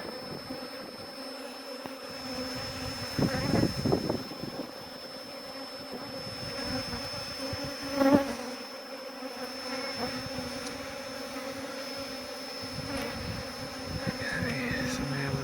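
Honey bees swarm and buzz around an exposed beehive inside a chimney during a hive removal, a dense, steady droning hum with occasional closer passes and scattered handling knocks.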